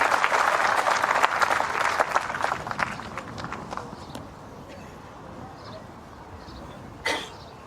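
A crowd applauds at a men's singles lawn bowls final between Canada and New Zealand, with dense clapping that gradually thins and fades into a quiet room tone, leaving a lone clap or two near the end.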